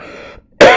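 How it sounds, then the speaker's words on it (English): One sharp, loud cough bursts out close to the microphone after a brief rasp and a moment of silence. "I'm sorry for coughing all in your ears."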